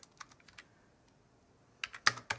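Keys tapped on a Mac computer keyboard in a quiet room, a few scattered light clicks at first, then a quick close burst of louder keystrokes at the end.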